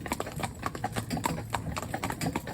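Horse hooves clip-clop on a newly surfaced road in a steady, rhythmic pattern, moderately close and fairly quiet, with no talking.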